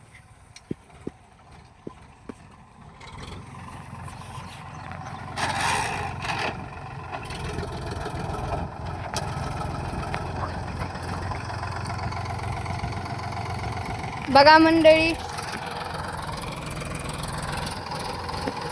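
An eighteen-year-old tractor idles steadily during soybean sowing, a low continuous rumble with a short louder burst near the end, and someone speaks briefly near the start.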